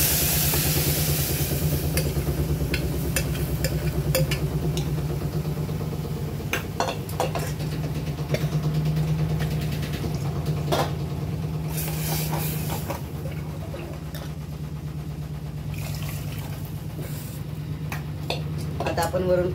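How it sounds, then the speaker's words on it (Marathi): Black hyacinth bean dal goes into a hot pan on a Maharashtrian stove, with a steady sizzle under repeated metal scraping and spoon clinks against the pan throughout. "आता आपण घेवड्याची डाळ टाकून घेऊया।"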